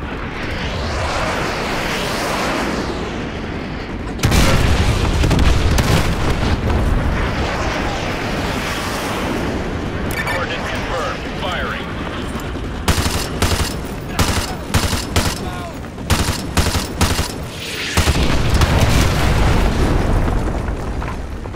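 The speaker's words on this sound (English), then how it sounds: "call in artillery on those vehicles. Fire mission received. Artillery inbound." Artillery strike explosions in Call of Duty Modern Warfare Remastered rumble loudly, with a sustained heavy barrage that swells at about four seconds, then a string of sharp booming impacts and bursts through the latter half.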